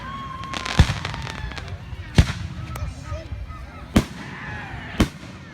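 Four loud, close fireworks bangs at irregular intervals, each a sharp boom standing out over background chatter and crowd noise.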